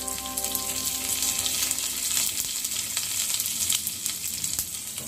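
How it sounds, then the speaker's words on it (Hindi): Panch phoron and asafoetida hit hot oil for a tadka, giving a steady, close crackling sizzle with fine popping throughout and a faint tonal hum beneath, with no talking. "मैं पंचफोड़ना इसमें मैं तड़के में डाल रही हूँ"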